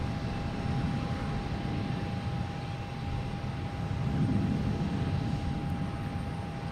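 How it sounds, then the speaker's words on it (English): An American Airlines Boeing 777 arriving from London Heathrow comes in to land at Boston Logan airport, a steady distant jet roar with a faint high whine that swells slightly midway, and no talking over it. "Alright, let's get back over to this American 777 coming in from London Heathrow."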